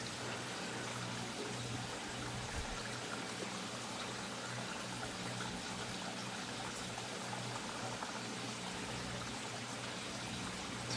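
Water flowing in a steady, continuous rushing stream, soft and even throughout with no talking.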